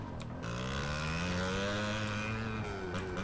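An engine on a motorcycle with an aftermarket exhaust in the video game GTA holds a steady droning tone, then rises and falls in pitch as the throttle shifts, loud and close, with no talk.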